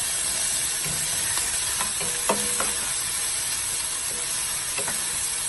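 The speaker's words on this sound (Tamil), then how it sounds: "சேர்த்துட்டு பொன்னிறமாக வெங்காயத்தை வறுத்துக்கலாம்" Onions with ginger and garlic fry in a pan for Chicken 65 pasta, producing a steady, close hiss and sizzle with a few light clinks of a spoon against the pan.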